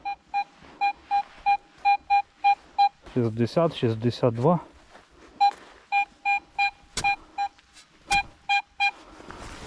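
A metal detector gives regular, evenly spaced beeping tones during digging in a forest, a clear signal repeating throughout, while someone speaks briefly over the beeps near the start.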